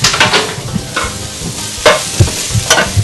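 Diced vegetables for a wild rice and mushroom frittata sizzle in a frying pan as a utensil pushes them around, with loud close scrapes and clatters over a steady frying hiss.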